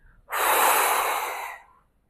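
A single strong breath is drawn in through the nose, close and airy, sustained for over a second before fading out.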